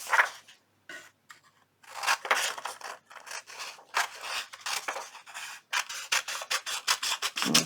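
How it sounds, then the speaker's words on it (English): Scissors trimming the borders off a paper book page, a rapid series of close, crisp rasping snips with short pauses between cuts. "piece of book page and trim the borders off like this."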